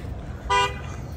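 A car horn gives one short, loud honk close by, standing out over low traffic rumble and outdoor background noise beside a road with no sidewalk.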